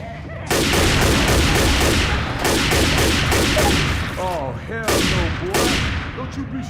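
Heavy, rapid gunfire in the video game Left 4 Dead 2 plays on the Xbox 360. Loud, regular shots sound close, briefly stop, then start again, with voices talking underneath.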